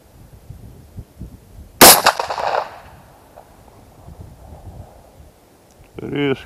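A single sharp 16-gauge Zimson shotgun blast fired outdoors, with a loud crack that decays into echo. Wind noise and faint background sound follow, and a brief voice is heard near the end.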